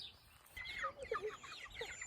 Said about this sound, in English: Here we have about 50 Cornish cross and a Joel Salatin style chicken tractor